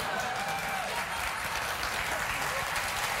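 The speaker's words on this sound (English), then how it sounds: "Applaud, though." A late-night talk show studio audience claps, a dense, even roar of applause lasting about three seconds.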